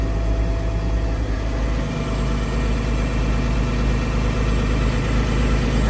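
A semi truck's diesel engine runs steadily nearby, a deep continuous rumble with a strong low hum that holds through the whole stretch.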